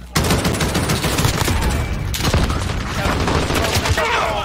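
Dense bursts of gunfire in the Warzone multiplayer video game, rapid overlapping shots and automatic fire filling the whole stretch, loud and continuous with a brief lull midway.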